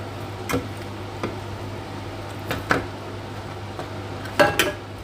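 Pork ribs turned over in a frying pan: a few light scrapes and taps of utensil on metal spaced out over a low steady sizzle and hum, the busiest clatter coming near the end.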